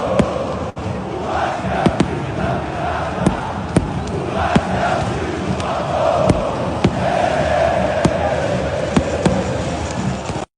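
Massed football fans chanting and roaring at São Januário stadium for ten seconds, a steady dense crowd din punctuated by sharp claps or bangs.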